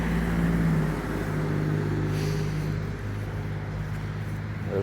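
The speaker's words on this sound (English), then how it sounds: "You can probably hear the traffic." Road traffic passes outside a house as a steady low rumble of vehicles, with a car's engine tone shifting briefly near the start before the hum continues.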